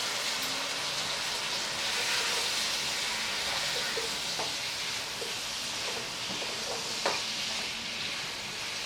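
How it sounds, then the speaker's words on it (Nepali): Spice masala fries over medium heat with about two spoons of water for a goat-head pickle, hissing and sizzling steadily, with occasional light clinks of a stirring spoon against the pan. "अब हिटलाई म मिडियममा लैजान्छु र यसमा म अब थोरै पानी राखेर यो मसलालाई फ्राई गर्छु।"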